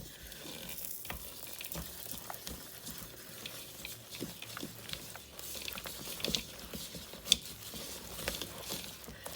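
Melted butter is stirred into a cake mix cookie dough by hand, producing quiet, close sticky squelches and scraping strokes in an irregular rhythm, with a sharper clack near the end.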